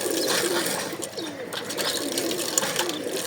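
Neighbour's pigeons coo softly and continuously through a short stretch of steady rainy outdoor ambience, with low rolling calls repeating close by and no talking.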